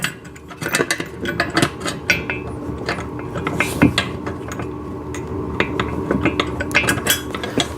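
A bolt and washer are fitted through the metal frame of a Garvee chest press during assembly. Close metallic clinks, taps and rattling come in irregular bursts, with no talking over them.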